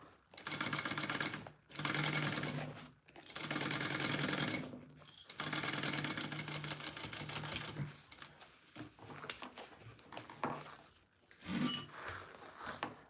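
A sewing machine stitches a sling bag in several short bursts separated by brief pauses, its rapid close clatter starting and stopping repeatedly.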